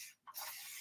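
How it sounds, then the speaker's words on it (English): Spray bottles misting paint onto a large canvas, a faint hiss that dips briefly and then returns as a steady, continuous spray. "Really, really going to town with these spray bottles."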